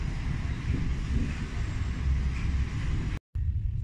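A passenger train on the Orsk–Moscow route rolls slowly up to the platform, a steady low rumble with wind-like hiss from start to end, broken by one short dropout near the end.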